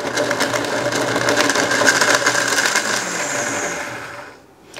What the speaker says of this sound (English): we put the lid on, and we're gonna let the blender do its job.